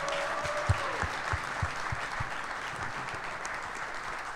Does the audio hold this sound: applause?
yes